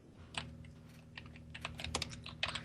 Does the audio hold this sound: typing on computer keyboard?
yes